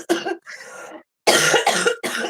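A person coughing hard, close to the microphone, in a few harsh bursts separated by short silences, with no other sounds around.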